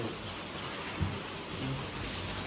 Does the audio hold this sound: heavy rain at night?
yes